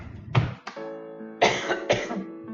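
Several harsh coughs from a woman during a Bible lesson recording, close to the microphone: two quick coughs, a pause, then two more in fast succession, with no talking.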